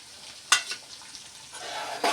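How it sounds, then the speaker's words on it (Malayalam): Green chilies and garlic fry in a pan, giving a faint sizzle with a couple of sharp scraping stirs close by and no talking. "ഒക്കെ പച്ചമണം മാറുന്ന വരെ വഴറ്റി കൊടുക്കാം നമുക്ക്."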